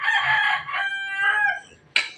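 A gamefowl rooster crows nearby at a farm coop, one long rising and falling cock-a-doodle-doo lasting about two seconds, followed by a short sharp cluck, with no talk.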